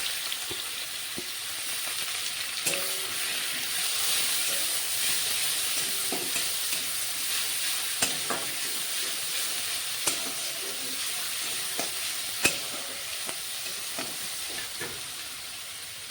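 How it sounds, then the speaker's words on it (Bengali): Onion paste with whole garam masala and cumin frying in oil, giving a dense, continuous sizzle that stays close and even throughout, dotted with occasional clicks and scrapes of stirring. "পেঁয়াজটা কাঁচা গন্ধ যাওয়া পর্যন্ত আমি ভেজে নেব"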